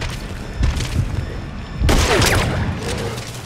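A burst of gunfire in the video game Metal Gear Solid V: The Phantom Pain erupts loudly over a steady rumble of rain, with a couple of softer thuds beforehand.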